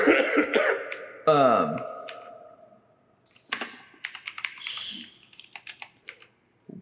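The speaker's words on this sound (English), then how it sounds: "Can you try typing something?" Quick clicks of typing on a computer keyboard in a comedy writers' room arrive in short bursts after a throat clear and some voice sounds, fairly soft and close.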